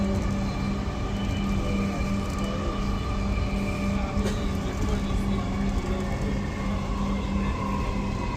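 Inside a Dhaka metro rail train running between Farmgate and Motijheel, a steady, loud rumble and whine of the moving carriage fills the clip, unbroken and constant throughout.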